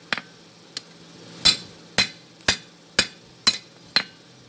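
Hammer striking hot metal while forging a horse head handle with a bottle opener: a series of clear, ringing metallic blows, close and loud, at an uneven but roughly steady pace with quiet gaps between.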